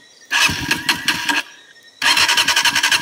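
A motorcycle engine cranks and sputters in two attempts, revving briefly then cutting out, loud and close, without catching into a steady idle.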